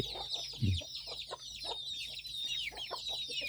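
Chickens on a rural Thai farm clucking repeatedly in short, close bursts, with one louder squawk and a thin, high chirping running in the background.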